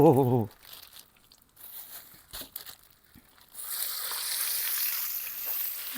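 Curry paste sizzles in a hot oiled wok, growing into a steady, bright frying hiss after a few scrapes and knocks, with a voice briefly at the start.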